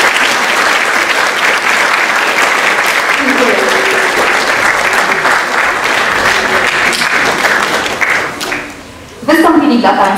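A school theatre audience claps loudly and continuously for the young actors, a thick burst of applause with voices mixed in. It dips briefly near the end, then swells again alongside a speaking voice.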